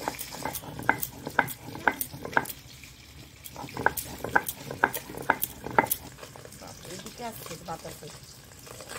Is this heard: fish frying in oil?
yes